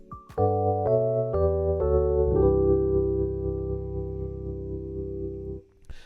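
A gentle keyboard intro: a few soft chords struck in sequence, then one long sustained chord ringing out and fading, with no voices.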